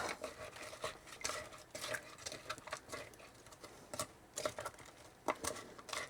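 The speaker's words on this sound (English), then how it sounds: "Let's get our soup, what we've started, stirred up" Vegetable beef soup in a pot being stirred in an RV kitchen, with a rapid stream of soft scraping and clinking from the spoon against the pot, close and fairly quiet, in uneven bursts.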